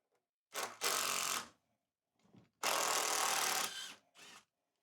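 Two bursts of a power drill or driver backing out 75mm batten screws that fix a wood vice to a workbench, each whirring for about a second, the second run longer, with a short final spurt and quiet gaps between.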